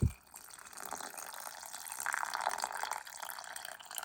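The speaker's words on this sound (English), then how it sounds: "Next thing we're going to do is put cold water, and all this is cold." Cold water pours into a pot for chicken soup, a steady close splashing stream that swells and then eases, with no talk.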